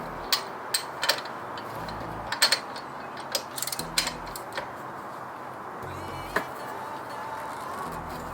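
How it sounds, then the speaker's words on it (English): A 3/8 drive ratchet with a 21mm socket clicks in short bursts while loosening a brake caliper bracket on a C6 Corvette, the close pawl ticks sitting over a faint background hum. "you want a 3/8 drive or whatever size ratchet you need, and then a 21mm socket"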